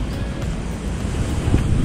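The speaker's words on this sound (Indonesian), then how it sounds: "Oh, ombak masih kuat lah." Strong surf breaking at Teluk Batik beach after rain, a steady loud roar of waves mixed with gusting wind buffeting the microphone, swelling slightly toward the end with no voices.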